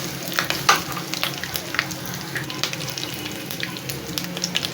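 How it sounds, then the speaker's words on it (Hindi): Maida flour frying in a pan with garlic and ginger already cooked, a steady close sizzle with light stirring scrapes throughout, no voices. "2 चम्मच भर के मैदा, इसको भून लेंगे।"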